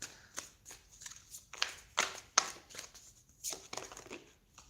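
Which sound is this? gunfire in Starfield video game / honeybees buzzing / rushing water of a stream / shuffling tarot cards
shuffling tarot cards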